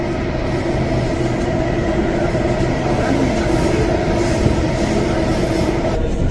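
A Delhi Metro train speeds through an underground tunnel, giving a loud, steady roar with rumbling wheels and rail noise throughout.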